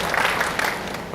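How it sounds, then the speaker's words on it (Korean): A church congregation gives a brief burst of dense, even clapping of encouragement, heard close and with no talk over it. "한번 위로와 격려의 박수 많이 주시기 바랍니다."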